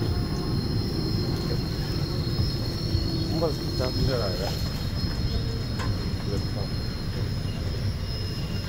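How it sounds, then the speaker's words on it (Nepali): A train moving slowly rumbles along with a steady low roar and faint squealing wheels, while voices murmur in the background. "एउटा रेल चाहिँ स्लोसँग चलेको क्या"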